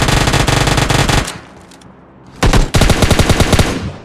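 An UZI fires in PUBG Mobile Lite: a loud, rapid automatic burst, a short lull, a brief second burst, then another fast volley of close, crackling shots.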